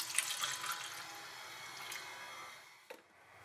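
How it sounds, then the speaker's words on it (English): Listerine mouthwash poured into a cup, a soft continuous liquid trickle with a brief splash near the end, close and fairly quiet with no talking. "I'm just going to pour it into this cup."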